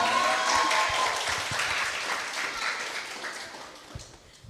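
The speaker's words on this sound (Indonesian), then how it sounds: "Tepuk tangan dulu untuk Evan." A crowd applauds a student at a high school event in Jakarta, with steady clapping that starts full and gradually thins out over a few seconds.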